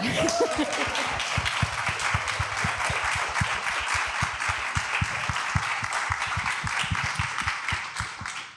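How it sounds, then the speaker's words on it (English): A theater audience applauding steadily, dense sustained clapping that stays loud from start to finish with faint murmurs underneath. "now the second crowd can applaud the first crowd"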